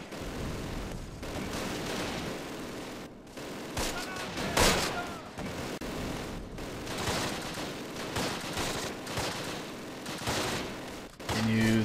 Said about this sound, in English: Still under some heavy fire.